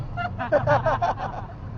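A fast tuk-tuk ride in Thailand, its engine rumbling low and steady close by, while excited voices chatter over it in short bursts.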